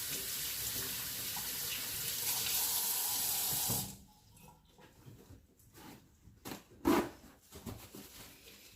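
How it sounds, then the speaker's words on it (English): Hands are washed under a running tap at a kitchen sink, a steady loud gush of water for several seconds that then cuts off, followed by quieter clatter and a few soft knocks. "So now I'm gonna wash my hands."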